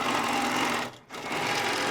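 A Handi Quilter Moxie longarm quilting machine stitches in a fast, even mechanical hum, pausing for a split second before resuming. It is fairly close, with no talking.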